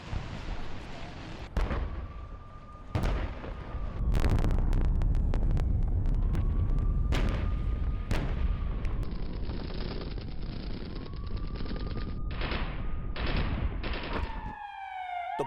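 Battle footage of a Ukrainian tank attack on Russian positions, with sharp, loud gunfire and explosive bangs repeating at irregular intervals over a continuous rumble, with a wavering siren-like whine in the background.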